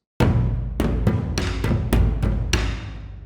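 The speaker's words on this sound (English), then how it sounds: "which is the taiko and gran cassa" Deep taiko and gran cassa drum hits ring out in a cinematic pattern, about seven heavy strikes with long resonant decays that overlap, loud and close with no voices.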